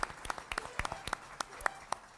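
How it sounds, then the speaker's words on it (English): Applause for faculty and staff at a college convocation: scattered sharp claps with a few cheers and voices in a large hall, fairly sparse. "I want an applause for you guys."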